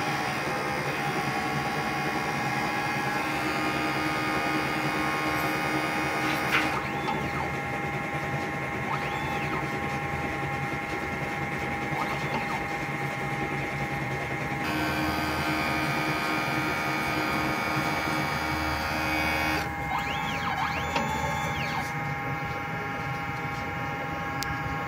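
A DTF printer running a print head cleaning cycle, with a steady mechanical whir and hum that continues throughout, with a few shifts in tone as the motors change, close and even.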